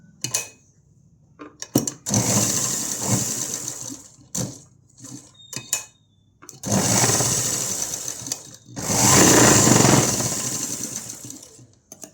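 A sewing machine stitches a one-year-old baby's frock in loud, steady whirring bursts of a few seconds each, separated by short pauses and quieter handling noises.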